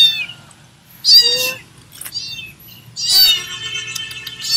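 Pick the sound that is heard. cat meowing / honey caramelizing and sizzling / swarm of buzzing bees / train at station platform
cat meowing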